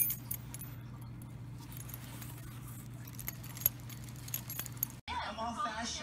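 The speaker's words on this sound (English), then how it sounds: "Want the keys?" Keys jangle with a bright metallic rattle over a steady low hum like a car interior, with sharper clinks near the end before an abrupt cut to louder movement.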